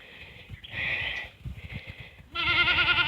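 Several goats bleat loudly nearby on a humid day during a tropical storm, long wavering calls with shuffling and snorting between them, the last bleat the loudest.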